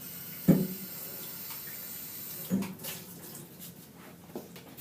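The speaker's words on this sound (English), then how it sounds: "I'm just going to take it to the sink and rinse" Water runs from a sink tap as a ceramic piece is rinsed before glazing, a steady close splash with a couple of sharp knocks of the piece against the basin, no talking.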